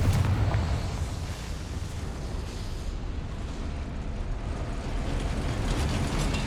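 Sustained, rumbling blast of a Confringo fire spell in Hogwarts Legacy, a loud roar that holds steady for several seconds and then swells again.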